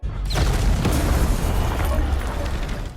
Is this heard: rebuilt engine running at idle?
no